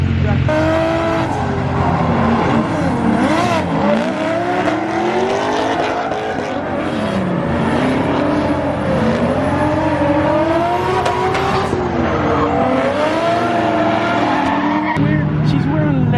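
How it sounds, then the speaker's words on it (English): Cars drifting at a car show send out loud, sustained tire squeals over revving, wavering engines that rise and fall throughout, with voices talking underneath. "This is my first time seeing the guys drifting, Matt and Alberto."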